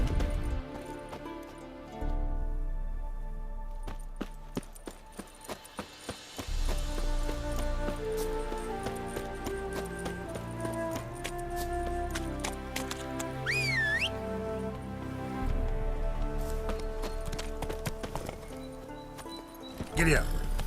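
Horse hooves trot in a steady clip-clop rhythm while riding in The Witcher 3, close and continuous under soft background music, with a brief whistle-like sweep partway through.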